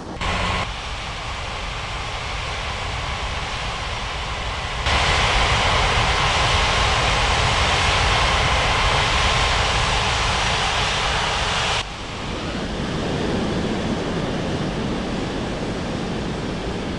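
Airliner jet engines roaring at takeoff on runway 27 at Bali's Ngurah Rai airport in the game Unmatched Air Traffic Control, a loud, steady broadband roar that swells midway then drops back to a lower rumble.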